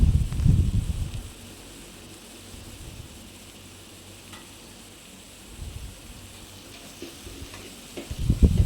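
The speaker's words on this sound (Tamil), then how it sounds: "நல்லா வதக்கி எடுத்துங்க." Soft, steady sizzling of tomatoes sautéing in a pan, with louder scraping stirs at the start and end and a few brief clinks in between.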